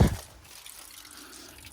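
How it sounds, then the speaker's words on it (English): Water runs out of the gas tank of a jacked-up scrapyard car. A brief splash at the start settles into a faint, steady trickle and drip. "there's water flowing out of this gas tank"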